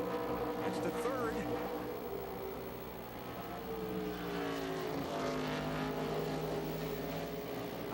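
Race cars at Watkins Glen during a 2004 race, engines droning and rising in pitch as several cars pass at a distance, heard under commentary.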